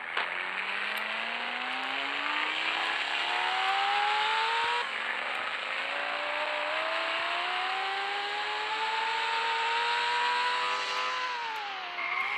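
A car drives in a video game at night, its engine droning loudly and continuously with pitch climbing steadily through gears, dipping briefly at each shift, with no talk over it.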